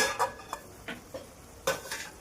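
Metal pot lid clinks and scrapes as it is handled over a pan of mutton chops cooking on medium flame, several short sharp knocks spread irregularly, close and clear.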